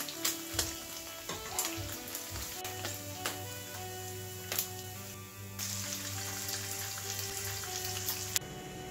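Small fish frying in hot oil give a steady close crackling sizzle with scattered sharp pops and a few clinks from a pan or utensil, and no voices.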